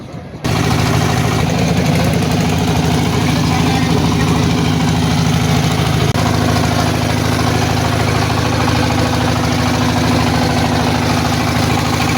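Small trawler boat engine on the way to the Sada Pathor tourist spot in Sylhet, a steady loud low idling drone that starts just after the opening and runs unbroken throughout, with a faint voice now and then.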